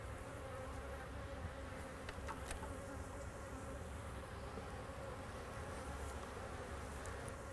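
Honey bees buzz steadily at a hive while a second honey super is added, a dense, even drone filling the scene with a few brief sharper whines passing close.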